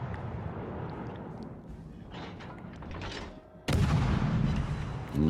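Heavy naval gunfire from warships in World of Warships: Legends, a deep boom arriving suddenly after low rumbling ambience, then a sustained roar of shells and distant thuds.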